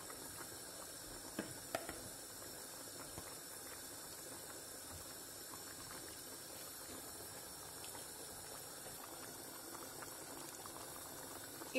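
Chicken pieces simmer in beer in a pot, with a soft, steady bubbling and hiss and a few faint pops, quiet and with no talking.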